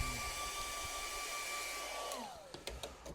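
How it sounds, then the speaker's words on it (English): Steady, close whirr of a hair dryer on hot heat drying acrylic paint, running continuously before clicking off near the end, followed by a few faint knocks. "I'm going to dry that, I've got it on a hot heat, and then I've got a button for cold to cool it down."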